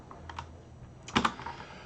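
Computer keyboard keys are pressed while a GCC compile command is entered: a few light taps, then a louder cluster of two or three sharp clicks, close to the microphone.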